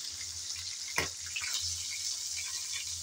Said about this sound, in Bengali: এখন অপেক্ষা করব যাতে একটা সাইড ভালো করে ভাজা হয়